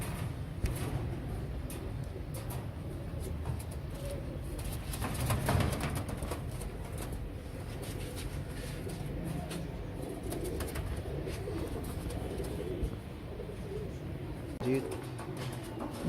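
Royal Teddy pigeons coo softly and repeatedly in a loft, their low murmuring calls laid over a steady background hum.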